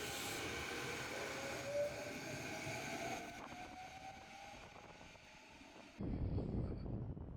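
A brightly colored local train in Hyogo, Japan rumbles past with a steady mechanical hum and rising whine, then a louder, rougher rush takes over near the end.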